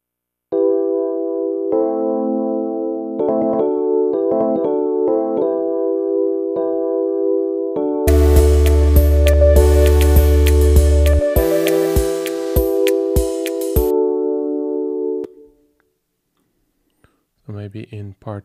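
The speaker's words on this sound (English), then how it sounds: "I want to add some automation to the electric piano." Electric piano chords with automation in a music production track, sustained harmonic notes with rhythmic stabs, joined midway by a heavy bass and bright percussive layer before cutting to silence and a brief restart.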